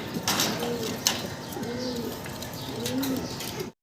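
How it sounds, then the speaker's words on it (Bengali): Fancy Andalusian-colour pigeons coo in soft, repeated low rolling calls, three distinct phrases close by over a steady background hiss. "অ্যান্ডোলজিয়ান কালারের ভিতরে শৌখিন কবুতর দেখতে পারতাছি"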